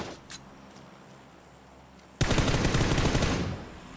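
A burst of rapid automatic gunfire from PUBG on PS4 erupts loudly after a quiet stretch, sustained for about a second and a half, with faint scattered shots heard earlier.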